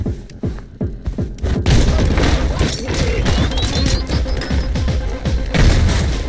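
Repeated booming blasts and crashing impacts from a video game, loud and dense, with mechanical clanks and bursts layered throughout.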